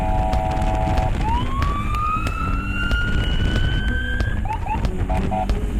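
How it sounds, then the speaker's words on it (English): A funeral escort vehicle sounds a siren-like wail that rises and holds steady for several seconds, then switches to short repeated chirps, loud and close over road noise with no talking. "I'm not sure if the noise he's making right now counts as sirens"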